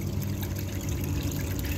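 Water flushes steadily through a line at a Snake River cleanup site in Idaho, a continuous close rushing and trickling wash at even loudness with no talk.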